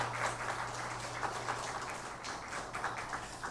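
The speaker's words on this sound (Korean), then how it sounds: "은혜로운 찬양해 주신 성가대원들에게 다시 한번 감사의 박수 하겠습니다" A church congregation at a Sunday worship service at Hanyang University Church applauds the choir with steady, even clapping over a constant low hum.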